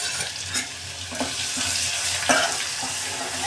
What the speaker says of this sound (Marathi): आपण जे आलं लसूण ठेवून दिलेलं मगाशी त्याच्यामध्ये घालून घेऊ.